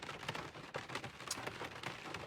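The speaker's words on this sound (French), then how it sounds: "Et ça s'est mis à pleuvoir avant que j'ai monté la tente." Steady rain patters on a surface at a campsite before a tent is pitched, a dense soft hiss with scattered louder drops, fairly quiet and continuous.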